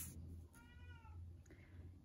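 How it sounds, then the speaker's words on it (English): A house cat meows once, a short, faint cry heard at a distance in a quiet indoor room over a low background hum. "You might hear my cat."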